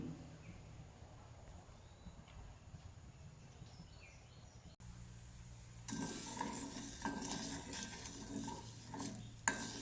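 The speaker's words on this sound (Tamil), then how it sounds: "நல்லா மிதமான தீயில் நல்லாவே பொரிய விட்டுருங்க. உங்களுக்கு பார்க்க தெரியும், கொஞ்சம் கொஞ்சமாக பொரிஞ்சு வருது." Salt and turmeric fry in oil over medium heat, a faint soft sizzle that grows noticeably louder and brighter partway through, with a few light kitchen clinks.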